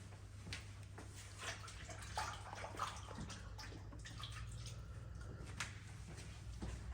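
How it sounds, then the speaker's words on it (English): Hands are washed under running water after mixing greasy veggies for an air fryer casserole, a faint steady stream with soft splashing and squishing, no voices. "And then I recommend a quick hand wash just because you get so greasy off everything."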